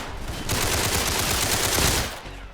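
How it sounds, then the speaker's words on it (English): A Tommy gun firing full-auto in the Roblox game Criminality, a loud close burst of rapid rattling shots lasting about a second and a half before cutting off. "Tommy gun is really good for shredding gangs, obviously has 50 bullets, but it does obviously no damage"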